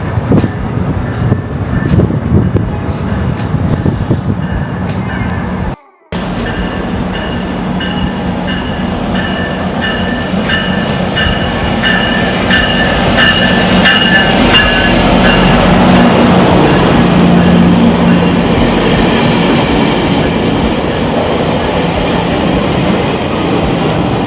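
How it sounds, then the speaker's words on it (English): A train pulling into a station during a snowstorm: loud rumbling and clattering wheels with high squealing brakes as it slows, a brief dropout early on, then a steady heavy roll close to the platform. "So waiting on my train, guys."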